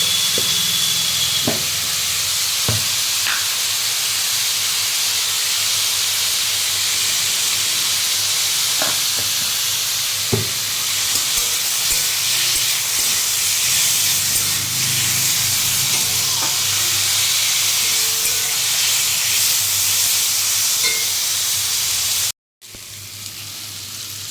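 Green tomato curry fries in a pan with a continuous loud sizzling hiss, close up, broken by a few faint clinks of stirring and no talking.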